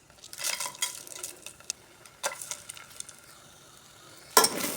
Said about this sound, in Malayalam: ഇതൊന്ന് നമുക്ക് ഇളക്കി കൊടുക്കാം.